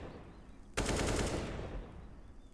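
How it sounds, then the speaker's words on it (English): Burst of automatic gunfire spam in an esports shooter match, a sudden loud rattling volley that starts sharply and decays over about a second into quieter reverberant tail, with no talking. "I don't want to waste all your ammo on that spam because you could get rushed on your reload, but now Sumdai Young hopes for exactly that"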